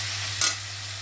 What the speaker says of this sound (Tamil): இப்போ இதில் கொஞ்சம் உப்பு போட்டுட்டு இதை நான் கொஞ்சம் வதக்கிறேன்